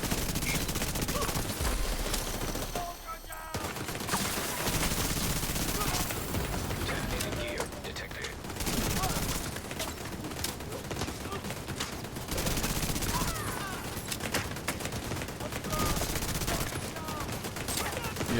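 Turret fire and gun battle in The Division 2, with dense, continuous bursts of shots and explosions filling the whole stretch, loud and chaotic under occasional voices.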